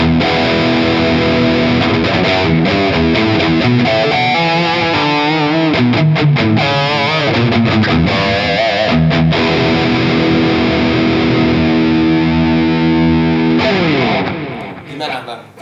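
A Fena TL S90 electric guitar played with drive through a Valeton GP200LT multi-effects unit, sounding thick and distorted with sustained chords and quick strummed passages, loud and continuous throughout before fading at the end.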